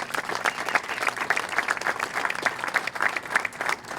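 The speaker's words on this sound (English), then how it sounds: "a big round of applause to you guys" Steady crowd applause at an outdoor groundbreaking ceremony for Annapolis City Dock, many hands clapping densely and evenly, loud and close, with no voices above it.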